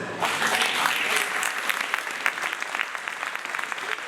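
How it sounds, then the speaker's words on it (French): A festival audience applauds René, a dense, even burst of many hands clapping that carries steadily through the whole moment without speech. "Je vous demande d'applaudir donc René qui va prendre le temps de monter"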